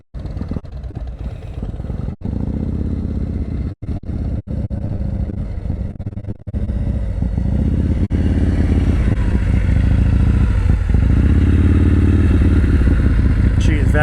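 A motorcycle crawling at slow speed during a riding practice session, its engine idling and pulsing as the clutch is feathered in and out, rising to a steadier, louder drone in the second half with faint voices in the background.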